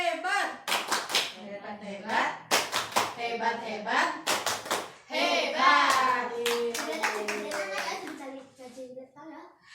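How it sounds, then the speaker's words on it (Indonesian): A group in an Indonesian health and nutrition class session claps in a rhythmic, patterned cheer, with sharp bursts of hand claps mixed with voices chanting and talking. "sekarang kita beri tepukan"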